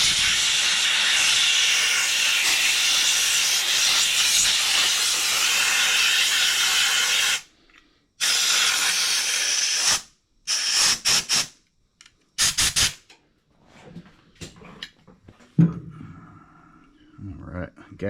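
Compressed air blasting through a John Deere X540 lawn tractor carburetor, loud sustained hissing bursts up close, first one long blast, then several shorter spurts separated by abrupt silences, with clinks of handling between.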